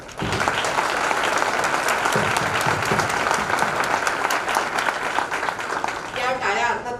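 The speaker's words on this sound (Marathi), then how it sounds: "जोरदार टाळ्या वाजवा" A theatre audience at a discussion with a senior film and stage actress breaks into loud, sustained applause that fills the room for several seconds, with a voice briefly emerging near the end.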